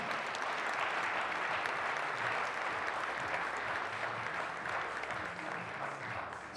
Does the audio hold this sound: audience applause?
yes